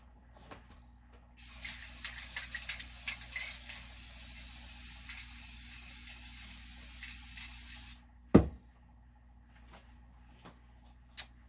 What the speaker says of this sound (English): I'm gonna go ahead and clear coat these real quick.